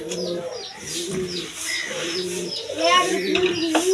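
Black high-flying dom pigeons coo close by in repeated soft, throaty bursts, with chirps and chatter mixed in and someone talking over them.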